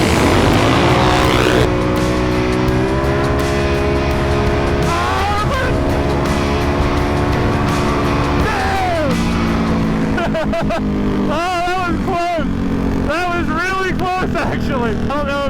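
Nitrous-fed Can-Am side-by-sides roar loudly down a drag strip, engines rising and shifting in pitch in long sweeping pulls that stay close and dominant for the whole stretch.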